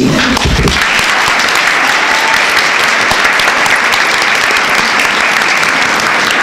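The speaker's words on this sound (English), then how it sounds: "I'd like to ask everyone to join me in a round of applause for Papa John's President and CEO, Mr. Steve" Steady applause from an audience at a college business panel, sustained and even clapping that fills the whole stretch after a brief bit of speech at the start.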